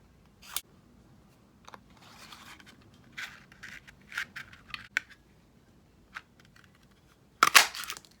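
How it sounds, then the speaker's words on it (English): Scissors snip card paper in short, separate cuts scattered across a quiet room, with a sharp cluster of snips near the end. "If you find the paper is just and you're not getting that angle, just give it a bit of a trim up."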